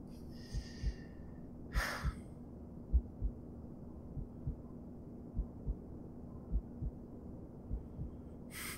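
A slow, steady heartbeat thumps softly at an even pace, low and muffled, with occasional breathy sighs and snorts mixed in.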